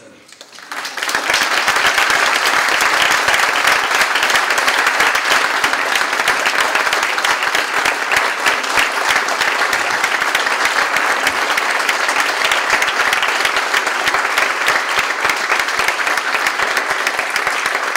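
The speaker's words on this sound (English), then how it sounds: "come and get the applause that you deserve" An audience at a community college event bursts into loud, sustained applause for the U.S. Secretary of Labor, swelling within a second and continuing as a dense, even roar of many clapping hands with crowd noise.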